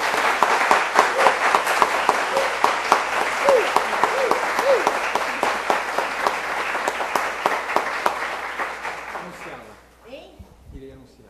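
A psychology conference audience in São Paulo applauds a speaker, a crowd of hands clapping steadily for several seconds before fading out, with a few voices rising at the end.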